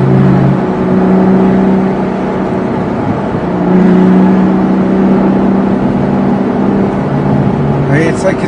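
A Ferrari GTC4 Lusso drives near a snowy mountain summit, its engine a steady, loud drone with wind rushing past and a slight rise in revs partway through.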